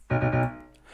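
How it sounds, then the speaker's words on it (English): A piano part in an FL Studio beat rings out with a struck chord and a few quick repeated notes, then decays into a soft tail within a second. "And then there's also this random piano here, which sounds like this."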